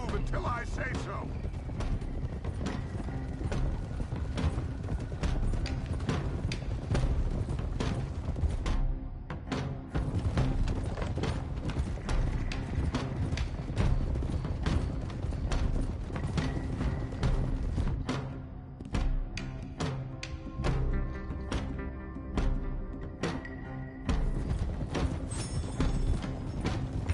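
Horses clip-clopping at a steady trot in Red Dead Redemption 2, a continuous rhythmic hoofbeat under game music and talking voices throughout.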